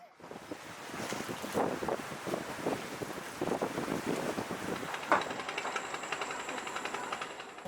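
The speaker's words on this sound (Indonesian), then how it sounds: "Ini dia angin timur ini sekarang ini." An east wind blows hard on the coast, a loud gusty rush buffeting the microphone, with surf and waves churning underneath.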